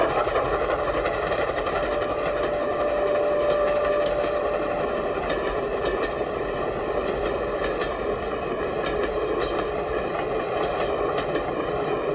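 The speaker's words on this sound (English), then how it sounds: "Each course seemed to be punctuated by the passage of yet another steam train" A steam train in China on a line toward the Gobi Desert rolls past at close range, a loud continuous rumble with steady rhythmic wheel clatter and a faint high whine running through it, no voices.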